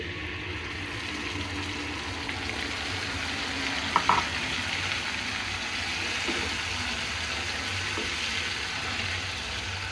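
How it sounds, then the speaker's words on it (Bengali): Fish sizzles gently in oil previously used for frying onions, a steady, fairly quiet hiss with a couple of faint clinks partway through and no talk. "আমি কিন্তু পেঁয়াজ বেরেস্তা করা ওই তেলেই মাছটা বসিয়ে দিচ্ছি"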